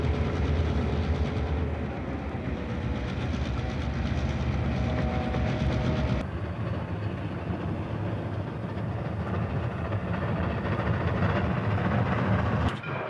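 A Rock Island passenger train, the Choctaw Rocket, rolls past on the rails with a continuous heavy rumble and rhythmic clatter of wheels, loud and close throughout.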